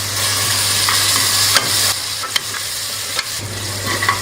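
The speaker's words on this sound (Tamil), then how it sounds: "இப்போ கட் பண்ணி வச்சிருக்கிற தக்காளியும் போட்டு நல்லா வதக்கிக்கலாம்" Chopped onions and tomatoes sautéing in a pan for a potato and black-eyed pea kuzhambu give a steady, close broadband sizzle, broken by a few sharp stirring clicks and scrapes, with no talking.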